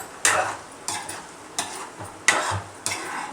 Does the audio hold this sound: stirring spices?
yes